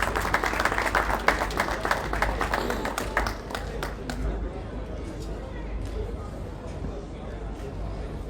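Audience applause at the closing ceremony of a mining week event in the DRC, dense clapping that swells and then thins to scattered claps under a voice on a public address.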